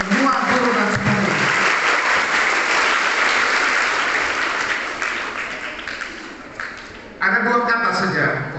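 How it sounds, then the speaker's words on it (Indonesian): Dense applause from an audience cheering teachers at an education gathering, loud and continuous, dipping briefly before a voice speaks over it near the end. "Tepuk tangan untuk semua guru dan semua guru."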